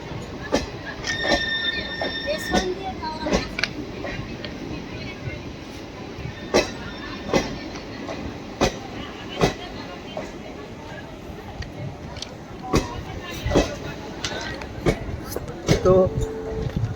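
Railway rumble and metallic clatter from Howrah–Medinipur trains on a line just outside Howrah station, a steady broadband din broken by sharp clanks and brief squeals spread across the whole stretch, with faint voices mixed in.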